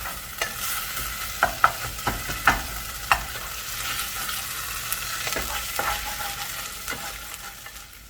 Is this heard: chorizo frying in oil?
yes